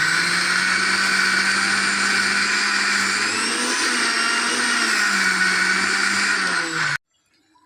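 A mixer grinder whirs loudly and steadily as it grinds soaked white rice with grated coconut, a continuous high motor whine that stops abruptly near the end.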